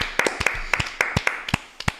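A small audience gives a panelist a round of applause: a dozen or so crisp, close hand claps in a loose, uneven rhythm, with no voices over them.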